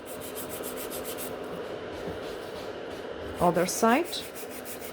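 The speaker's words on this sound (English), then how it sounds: "I'm filing again V-shape" An abrasive nail file is rubbed back and forth across a gel nail extension, giving a steady, soft, close scratching rasp that continues throughout, with a brief burst of speech near the end.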